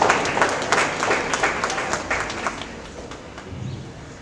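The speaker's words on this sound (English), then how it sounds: "So a big round of applause for the students' efforts." Applause from an audience at a school Republic Day celebration, a brisk round of clapping heard close that fades gradually toward the end.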